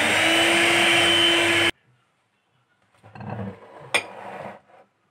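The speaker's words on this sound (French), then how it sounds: "Je vais venir prendre mon mixeur pour mélanger." An electric hand mixer whirs loudly and steadily while blending instant-coffee cake batter, then cuts off abruptly, followed by quieter scraping and a sharp clink of utensils against a bowl.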